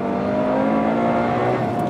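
A Ferrari 812 Superfast V12 revs loudly and close, a rich, sustained howl with a steady harmonic drone that climbs slightly in pitch toward the end.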